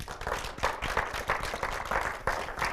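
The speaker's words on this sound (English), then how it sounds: "A big applause to everyone." An audience at a corporate career advancement day applauds, a dense, continuous patter of many hands clapping with a few sharper individual claps standing out, with no voices.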